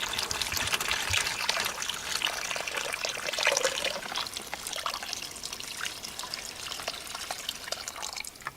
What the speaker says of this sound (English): I'm going to add my water into my bag.